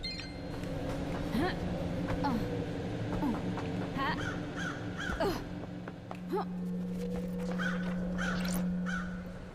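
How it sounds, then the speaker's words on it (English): Crows caw repeatedly in a video game, harsh calls scattered through the scene over a steady low drone, with people talking beneath them. "I like the crows."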